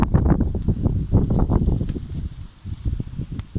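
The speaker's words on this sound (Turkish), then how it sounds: "Çok rüzgar var." Gusty wind buffets the microphone in rumbling bursts, loud and close, with faint rustling beneath.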